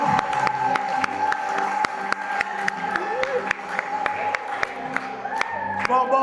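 A church congregation at a Sunday service claps in a steady rhythm, crisp, evenly spaced claps over sustained keyboard music, with voices speaking and calling out throughout.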